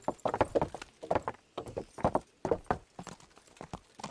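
Horse hooves in the video game Kingdom Come: Deliverance clip-clop in a quick, uneven rhythm, close and distinct, with short pauses between bursts of steps.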